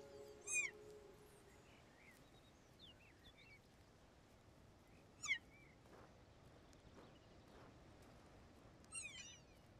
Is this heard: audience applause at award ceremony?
no